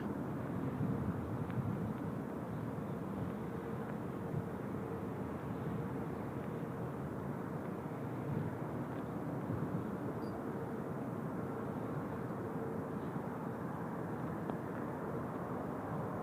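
A steady, even roar fills the cabin throughout as an airliner rolls down the runway at Incheon on departure for Taipei, with no voices heard.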